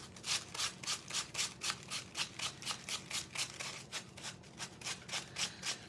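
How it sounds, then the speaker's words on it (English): A small painted wooden spider craft piece being sanded by hand, quick rhythmic back-and-forth rasping strokes, close and fairly quiet, evenly repeated with no talking. "we're going to give him a sand"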